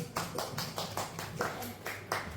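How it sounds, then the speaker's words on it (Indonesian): A roomful of people clapping hands in a seminar, with a soft, steady patter of claps running throughout, fairly quiet and even in level. "Kita tepuk tangan dulu"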